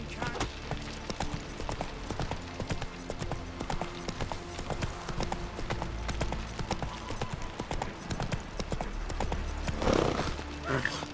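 Horse hooves clip-clop in a steady rhythm while riding in The Witcher 3, continuing through the clip beneath game music and ambient noise, with voices speaking over it.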